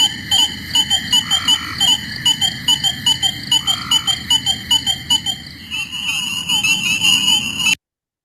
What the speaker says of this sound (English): So there's a Cope's gray tree frog calling in the background. That's the little brrr that you hear.